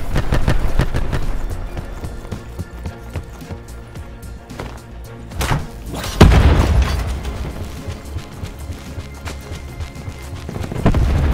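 Flash grenade in Call of Duty Black Ops 4 on Xbox, a loud sharp boom bursting out mid-clip over a busy, clattering battle soundscape with further thuds and crashes.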